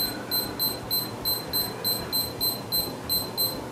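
Repeated short electronic beeps from the alarm of a WEIDE WH5205-3C digital wristwatch, close and fairly faint, in an even pulsing rhythm of quick bursts over a low background hiss.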